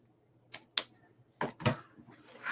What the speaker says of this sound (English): I'm just gonna cut them at an angle